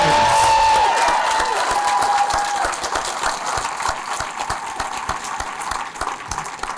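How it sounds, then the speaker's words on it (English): Audience applause for graduates at a gala, a full crowd clapping loudly with a brief tone at the start, then the clapping thins into scattered individual claps. "let's give the graduates and the new SAPs a big round of applause"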